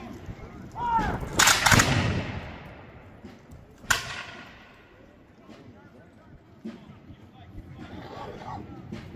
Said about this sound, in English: the Americans are advancing on the British and returning fire